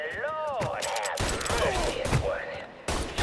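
Gunfire in a Mafia 3 shootout: sustained bursts of shots and crackling impacts mixed with game noise, with people talking over the action.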